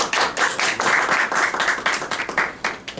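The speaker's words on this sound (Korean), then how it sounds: "여러분들의 힘찬 박수로 강의 시작하겠습니다" Audience gives a vigorous round of applause to open a lecture, a loud, dense wash of many hands clapping steadily for a few seconds, with no voices over it.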